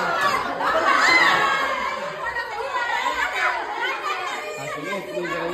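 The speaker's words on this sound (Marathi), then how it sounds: "गोंगाट चालू नुसता" A noisy crowd of children at a birthday gathering shouts and chatters all at once, a close, loud, continuous din with adult voices mixed in.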